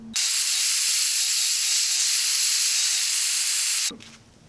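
A loud, steady hiss close by lasting about four seconds, then cutting off abruptly, as a hot soldering iron melts solder during a portable solar power generator build.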